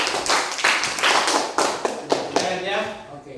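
Classroom audience clapping together for a few seconds in a lively burst that tapers off, a voice speaking over it near the end.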